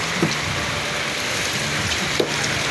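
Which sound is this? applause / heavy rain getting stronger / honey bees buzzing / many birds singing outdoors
heavy rain getting stronger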